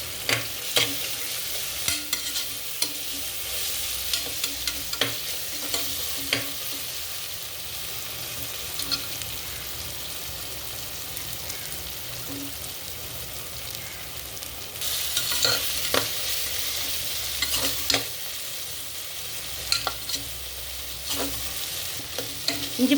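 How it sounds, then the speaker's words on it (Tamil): Ginger garlic paste sizzles steadily in hot oil while being sautéed with green chillies for chicken biryani, with a constant frying hiss and repeated close stirring scrapes throughout. "இஞ்சி பூண்டு பேஸ்ட் பச்சை ஸ்மெல் போகிற வரைக்கும் வதக்குனதுக்கப்புறம்"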